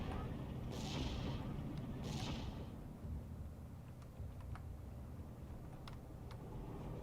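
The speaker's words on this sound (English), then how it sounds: "it's a big artillery war right now." Artillery barrages rumble in the Steel Division II wargame, low booming fire rolling and overlapping at a distance, with a couple of brighter whooshing bursts early on and scattered faint ticks.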